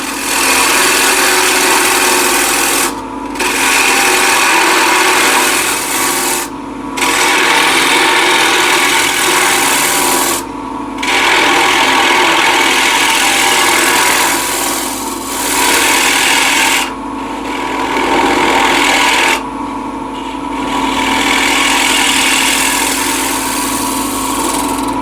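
A bowl scraper 25 mm wide and 10 mm thick cutting a wooden bowl on a lathe makes a loud, rasping scrape over the motor's steady drone, in long passes broken by brief pauses roughly every few seconds.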